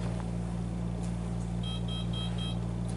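An ESS voting machine, unplugged from power, sounds a short run of faint, high-pitched beeps in quick succession. The beeps sit over a steady low electrical hum in an otherwise quiet room.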